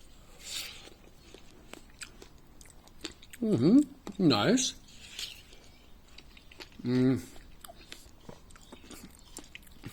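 Several wet, crunchy bites and chewing sounds of watermelon close to the mic, a few distinct bursts with quiet pauses between, and a brief spoken word.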